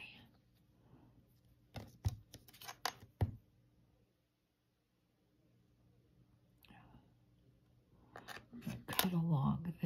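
Polymer clay feather cane being cut: a quick series of crisp, close cutting clicks and snips, a quiet pause, then more handling and cutting noises near the end, with faint whispery sounds in the background.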